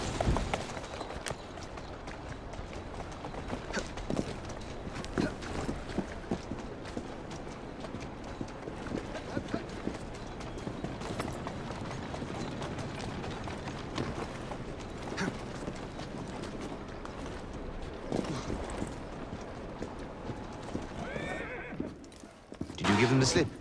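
A horse in Assassin's Creed Syndicate gallops with steady hoofbeats and whinnies over a street soundscape of carriage wheels and mechanisms, with character voices talking at times.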